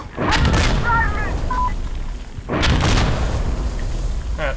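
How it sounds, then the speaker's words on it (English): Artillery explosions in the military shooter Insurgency Sandstorm, two heavy broadband booms about two seconds apart, each rolling out in a long rumble, mixed with faint in-game voices and small chirps. "That fucking artillery?"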